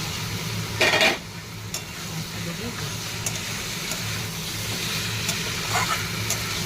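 Raw fish goes into a pan with chillies, a steady low sizzle and hiss with a brief louder splash of contact near the start and occasional utensil clinks, under quiet background chatter.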